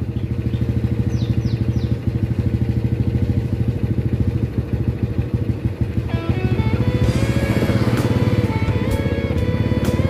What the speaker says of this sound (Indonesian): saatnya untuk mencoba ya, tes drive setelah diganti oli mesin dengan menggunakan oli mobil